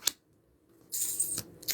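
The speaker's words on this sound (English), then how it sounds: "then I'm going to shuffle up the whole deck again." Tarot cards shuffled by hand: a short riffle at the start, then a longer papery flutter of cards with a couple of sharp snaps, close and fairly quiet.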